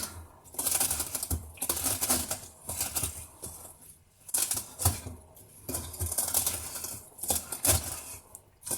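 A stiff wire brush scrubs young potatoes in quick repeated bursts with short pauses between, a close, rasping scrubbing against something firm.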